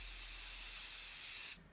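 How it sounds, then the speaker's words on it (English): Hairspray hissing from an aerosol can in one steady, close burst lasting about one and a half seconds, then cutting off abruptly, with no voices over it. "I go back in with my hairspray and spray it."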